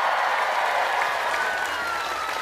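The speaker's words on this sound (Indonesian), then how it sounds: "Zahirmania, tepuk tangan." Dense, sustained clapping from a crowd at a humorous Islamic sermon gathering in Taiwan, loud and even for the whole stretch with no voices on top.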